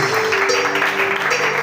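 Brief applause from a church congregation at a French-language worship service, a dense clapping wash over a steady held musical tone, lasting under two seconds.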